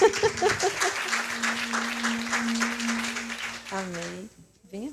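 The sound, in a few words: audience applause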